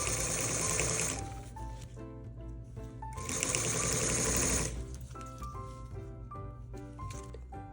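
A sewing machine edge-stitches a fabric window frame for a kid's table house. It runs in two loud, rapid bursts separated by a pause, with music playing underneath.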